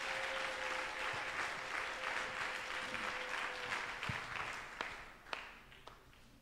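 Church congregation applauding, a sustained dense clapping that tapers off toward the end, with a few louder isolated claps and faint voices underneath.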